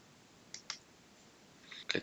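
A computer mouse clicks on a quiet desk: two sharp single clicks, a pause, then a quick cluster of clicks, all close and crisp with no talking.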